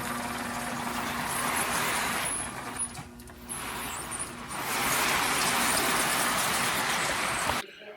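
A model railroad train passes by, producing a steady mid-level rolling and rumbling that swells and then eases, with no speech.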